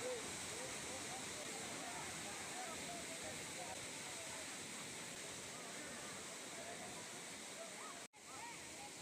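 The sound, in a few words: small waterfall with flowing water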